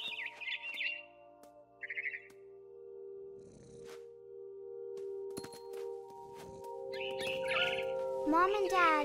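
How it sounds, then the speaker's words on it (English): A barn swallow in What Remains of Edith Finch gives short, bright chirps in separate bursts near the start and again toward the end, over a steady sustained musical hum. "It was a barn swallow going back to her nest."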